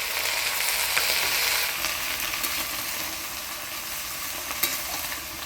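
Taro leaves cooked with salt and a little water are stirred in a pan with garlic, cumin and black cumin, a steady sizzle with soft scraping strokes throughout and occasional clicks, no voices.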